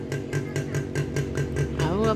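A motorcycle engine runs steadily nearby with a pulsing, regular beat, heard under ongoing talk from a person.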